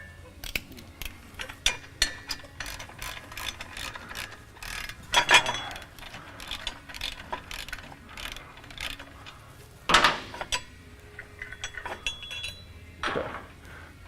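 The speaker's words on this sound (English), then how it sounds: "Go ahead and remove the fasteners" A ratchet loosening fasteners on a Diamond Eye cat-back exhaust, with bursts of quick clicking and occasional sharper metallic clinks of tools and parts, close up and without speech.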